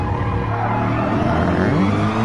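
A race car slowing under braking on a track, its engine note dropping and tires working, loud and steady throughout with no talk.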